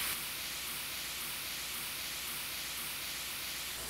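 Onions and mushrooms sizzle steadily in a hot pan, a soft even hiss with no pauses and no talking.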